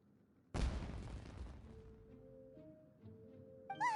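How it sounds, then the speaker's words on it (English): A single sharp firework blast in a video game bursts loud and close, then decays into a rumbling tail as sustained musical tones rise underneath, with a bright chime near the end. "Was that an explosion? It sounded like fireworks."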